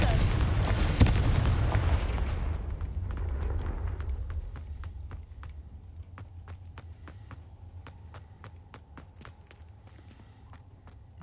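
A Confringo fire spell in Hogwarts Legacy bursts with a loud booming blast at the start, then a rumbling tail fades out under a steady run of sharp, evenly spaced clicks or footfalls.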